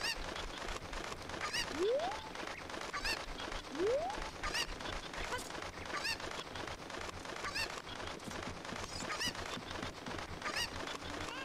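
Cucco chickens in Zelda: Ocarina of Time squawk in two quick upward honking calls over a steady bed of game ambience, moderately loud, with no voices.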